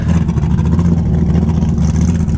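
A 1000hp Ford Mustang at a car meet revs with a loud, rough, lumpy engine rumble, close and continuous throughout.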